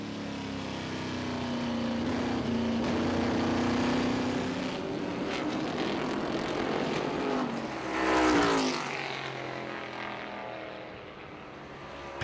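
A 1969 L88 Corvette race car roars past on a vintage racing circuit, its loud engine swelling and fading with a sharp pass-by whine near the middle, other cars droning in the background.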